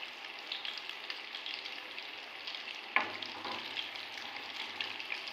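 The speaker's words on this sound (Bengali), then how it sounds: "এগুলো ভাজা হয়ে গেছে প্রায়, এবার আমি আস্তে আস্তে তুলে নেব।" Vegetable chops coated in gram flour batter fry in hot oil with a soft, even sizzling hiss and light crackle, faint and continuous, with one brief clink partway through and no speech.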